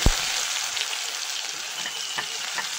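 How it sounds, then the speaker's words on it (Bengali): Chopped onion and whole cumin seeds sizzle steadily in leftover fish-frying oil, the start of a fish-head chorchori, with a sharp crackle at the very start and an even hiss throughout. "মাছের মাথা চচ্চড়ি করার জন্য মাছ ভাজা তেলের মধ্যে গোটা জিরে দিয়ে দেবো"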